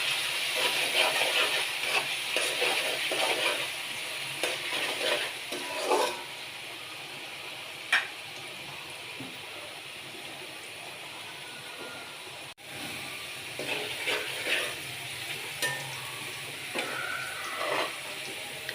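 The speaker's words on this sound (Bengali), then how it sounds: "আলুটা একটু ভেজে নেব।" Potatoes sizzle steadily in a hot pan with salt and turmeric, a close, continuous frying hiss broken by occasional scrapes and clinks of stirring, with no talk over it.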